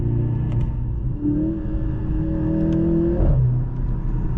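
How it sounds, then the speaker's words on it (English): A 2023 Mercedes-AMG C 43 engine hums and rises as it accelerates, its exhaust droning in a steady pitch climb before easing off, heard from inside the car. "the engine exhaust sounds really good"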